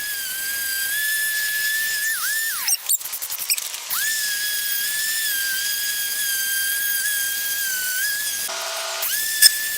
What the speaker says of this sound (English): I went ahead and took my sander and cleaned out the outside of the bricks where some of the mortar was still rubbed on